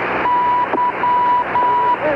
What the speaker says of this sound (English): Mysterious Morse code signals have been interfering with the shuttle's radio signals.